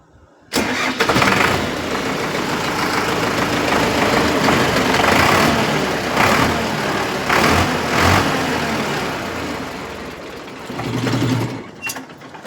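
A tractor engine cranks and catches, then runs at a loud, steady chugging idle close by, swelling briefly before the end.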